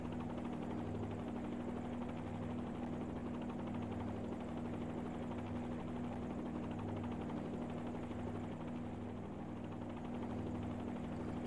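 Robinson R22 helicopter in flight, heard from inside as a steady, even rotor and engine drone with a constant low hum and a pulsing beat, quiet and unbroken.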